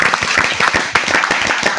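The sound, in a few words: congregation applause with hands raised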